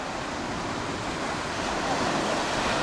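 Sea waves wash onto the shore at Mirny in Crimea, a steady broadband surf roar that holds loud and even throughout, with wind noise mixed in and no voices.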